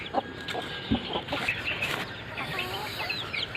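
Silkie chickens cluck softly nearby in a coop, giving scattered short calls and a few higher squawks over a quiet background.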